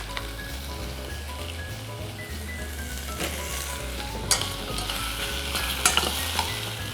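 Squid frying in a pan, a steady sizzle with stirring clatters and occasional sharp utensil knocks, over a low hum of background music.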